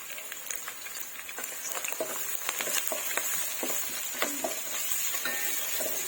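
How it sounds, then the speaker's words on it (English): Small chopped shallots frying in a pan over a low flame, a steady close sizzle with soft crackles and a few stirring scrapes running throughout. "So you have to cook the shallot"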